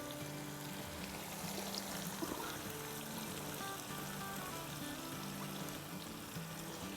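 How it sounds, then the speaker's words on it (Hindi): Two cups of yogurt poured into a chicken karahi with black pepper and sliced green chillies, giving a steady wet pouring and splattering wash that runs continuously and fairly loud throughout, with no talk. "साथ ही इसमें डालेंगे 2 कप दही"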